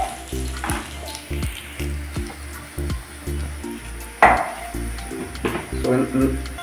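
Potato curry frying in a pan in a home kitchen, with a soft continuous sizzle and occasional stirring scrapes and clinks under a repetitive low rhythmic background.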